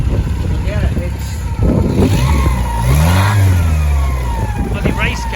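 A custom Mini Metro-engined trike revs up loudly nearby, its engine note climbing and then falling back in one clear rev. People talk over the running engine throughout.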